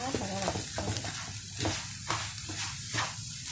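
Chili, lemongrass and salt are stirred in a hot nonstick pan, with repeated scraping strokes in a loose rhythm over a constant dry sizzle, close by.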